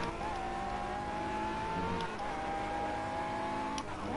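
Aston Martin GT3 race car engine in a racing video game, French GP circuit, holding a steady high drone that dips briefly as the car shifts gear, then climbs again, with faint background noise throughout.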